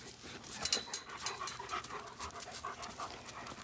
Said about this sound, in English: I got some good guard dogs here.